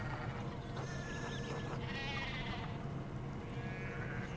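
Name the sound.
sheep bleating in video game Pentiment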